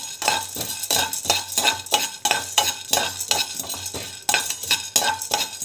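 Ingredients dry-roasting in a pan until their color changes, stirred with steady, rhythmic scraping strokes that repeat roughly every half second, close and fairly loud with a faint sizzle underneath.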